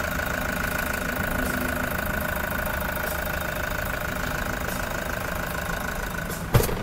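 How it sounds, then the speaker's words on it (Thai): A 2018 Toyota Commuter 3.0 diesel van engine idles steadily and close by, a constant low rumble with a faint knocking texture, ending in a brief clunk. "คุณลูกค้าฟังเสียงเครื่องยนต์ได้เลยค่ะเครื่องแน่นมาก"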